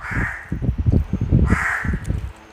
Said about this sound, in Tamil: காக்கா குட்டி வந்து நிற்கிது